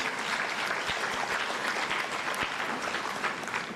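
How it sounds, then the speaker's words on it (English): Audience at a renewable energy conference clapping for a speaker, steady dense applause that stays even in level from start to finish. "A kindly clap for her."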